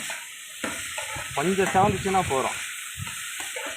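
Onions frying in oil while cooking outdoors give a soft continuous sizzle, with people talking over it and a steady background hiss.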